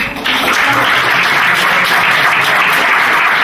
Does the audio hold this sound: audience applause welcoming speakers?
yes